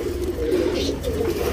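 Female tournament pigeon cooing close by in a low, steady, continuous burbling coo, heard alone without talk.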